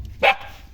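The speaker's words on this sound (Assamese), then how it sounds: "কুকুৰটো" A single short, sharp dog bark close by, standing alone over a low background hum.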